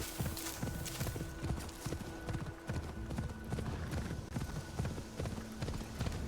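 Steady clip-clop of horse hooves walking at an even pace, close and continuous, with a faint whinny and ambient hum underneath, in the video game Assassin's Creed Shadows.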